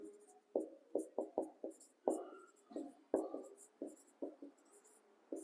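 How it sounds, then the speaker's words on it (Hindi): Notes are written on a classroom board, with quick, close, rhythmic taps and short strokes that come in a steady series of bursts and pause briefly partway through. "यहाँ पर नोट लिख लेते हैं"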